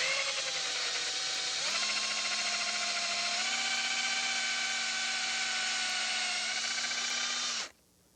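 Power drill driving a screw into a board on an old wooden cottage chair during repair: a continuous high motor whine that rises in pitch after a second, holds steady for several seconds, then stops abruptly.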